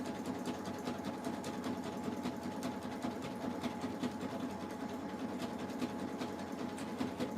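A sewing machine runs steadily, stitching jelly roll rug strips sewn flat, with a continuous whirring hum and fine repetitive needle ticks throughout, close and fairly loud with no talking.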